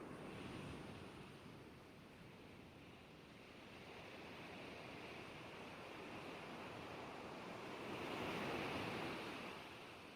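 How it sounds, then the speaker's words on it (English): Tsunami waves sweeping inland onto the shore, a steady broad roar of surging water that swells louder near the end, with no voices. "Waves inundate land."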